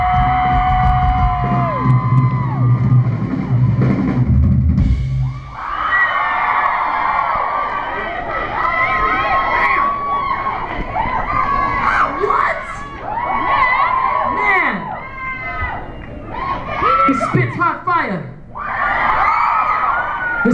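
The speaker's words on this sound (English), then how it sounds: "Make some noise for AJ on drums" Concert crowd at a live show cheering, whooping and screaming for the drummer, a loud continuous roar of many voices with high shrieks rising and falling across the whole stretch.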